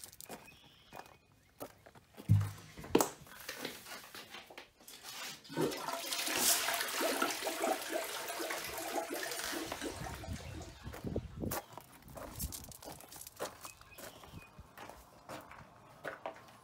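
A toilet flushes on a home well-water system, its rushing, gurgling water swelling mid-clip and then draining away, with a few footsteps and handling knocks around it, close and fairly quiet.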